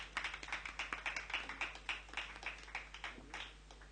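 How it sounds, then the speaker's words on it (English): An evening audience at a Garvey tribute pageant claps for the sponsors, a faint, distant patter of steady, rhythmic claps. "Give a round of applause to them."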